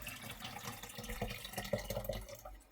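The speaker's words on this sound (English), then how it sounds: "Simply fill with water." Water poured into a Breville Hot Cup water dispenser, a quiet running trickle with light splashing and a few drip-like plinks toward the end.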